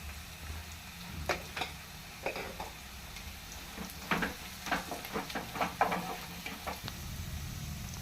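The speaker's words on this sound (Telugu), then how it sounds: "ఉల్లిపాయలు కూడా కొంచెం వేగనివ్వాలి" Onions frying in a pan with turmeric for a carrot fry, a steady low sizzle broken by scattered scraping clicks of a spoon stirring, close and moderately loud with no talking.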